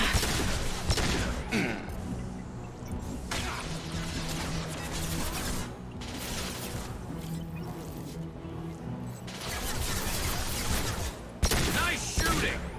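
Bursts of weapon fire from a Mass Effect 2 firefight, with shots and impacts layered through the action and voices talking over parts of it.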